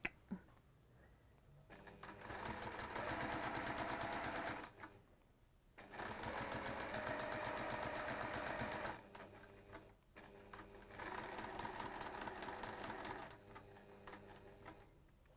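A sewing machine stitches fabric for a quilting project in bursts of fast, even mechanical whirring, pausing briefly between runs, close and clear with no talk.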